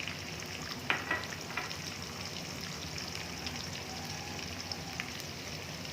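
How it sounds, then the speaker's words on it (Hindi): Onions sizzle in half a cup of ghee in a kadhai, a steady, close frying hiss with a few light pops and stirring clicks near the start. "यहाँ कढ़ाई में मैंने आधा कप घी लिया है। इसमें हम ये प्याज डाल देंगे।"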